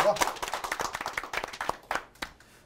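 Studio audience clapping to welcome a guest onto a Korean CEO talk show set, a brief burst of close, fairly loud claps that thins out and fades over a couple of seconds.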